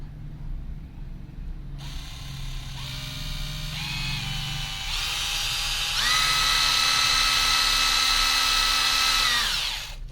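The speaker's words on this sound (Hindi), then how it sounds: "जैसे जैसे मैं इसको अपनी तरफ प्रेस करूंगी इसका स्पीड इंक्रीज करता जाएगा।" A Bosch GDR 180-Li 18V cordless impact driver runs freely with a whine that climbs in several distinct steps to full speed and holds there before cutting off, close and loud with no talking.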